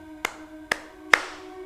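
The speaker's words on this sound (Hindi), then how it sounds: "ताली मारने की आवाज़" Three sharp hand claps ring out one at a time at slow, even intervals as a sound effect in a horror story. The last clap is the loudest and leaves a faint, echoing tail.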